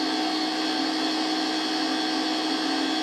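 A Vortex dual phase POE mini motor spinning at very high speed with no load, giving a loud, steady, even whine that holds unchanged throughout.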